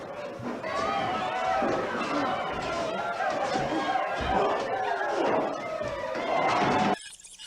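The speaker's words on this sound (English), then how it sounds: "now let's see what happens when you add some crowd noise to the Boar's Nest" Crowd noise laid over a barroom scene at the Boar's Nest roadhouse: a steady wash of overlapping chatter, shouts and laughter, loud and continuous for about seven seconds, then cutting off abruptly near the end.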